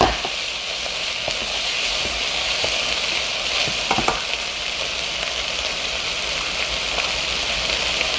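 Cabbage stir-frying in a pan for buldak tteokbokki, a loud, continuous close-up sizzle broken now and then by the clack of stirring.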